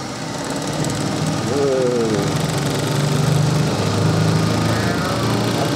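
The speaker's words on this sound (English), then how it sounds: "I've never heard a spin drive make that kind of noise before." A washing machine's spin drive runs with a loud, steady mechanical drone and rattling hum, with people talking over it.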